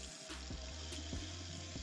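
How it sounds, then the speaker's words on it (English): Water runs steadily from a tap with a soft, continuous hiss, fairly quiet and without voices. "I'm going to go ahead and start my water."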